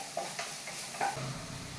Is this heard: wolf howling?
no